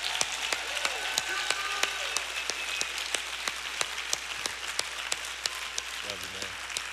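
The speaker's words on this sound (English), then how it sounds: "Come on and clap." A church congregation claps in unison to a steady, quick beat, sharp hand claps repeating evenly for several seconds over a faint room wash.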